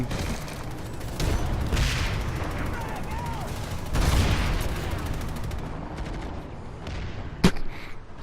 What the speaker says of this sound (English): Got killed by a fucking rocket launcher.